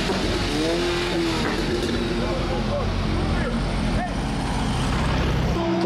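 A 1988 Volkswagen Golf Mk2, its original diesel swapped for a petrol engine, runs loudly and steadily at a car meet, with engine drone filling the whole stretch and other vehicle noise mixed in.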